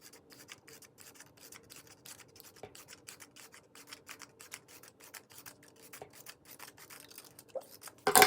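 Scissors cut through paper to make grass for a craft picture, giving a quiet, steady run of rapid crisp snips close by, with a slightly louder rustle at the very end.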